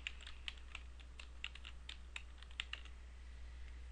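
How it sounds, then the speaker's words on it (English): Quiet typing on a computer keyboard, a run of light irregular key clicks over a steady low hum. "And we will type in"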